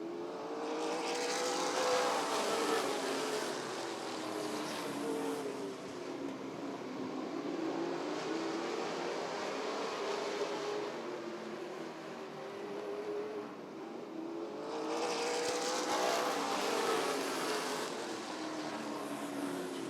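NASCAR late model race cars roar around Rockford Speedway, a continuous engine drone that swells and fades as the pack passes, heard from trackside at a moderate distance.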